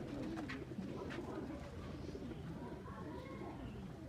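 Baby highflying pigeons coo softly in Faisalabad, low murmuring calls layered over steady background noise, with someone talking faintly throughout.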